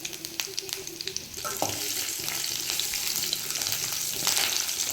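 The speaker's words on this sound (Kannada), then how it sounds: "ಹಸಿಮೆಣ್ಸಿಕಾಯಿ ಸ್ವಲ್ಪ ಫ್ರೈ ಆಗಲಿ." Chopped green chillies fry in hot oil with mustard seeds and curry leaves for a potato dosa filling, a soft steady sizzle with light crackles and stirring that grows a little fuller partway through.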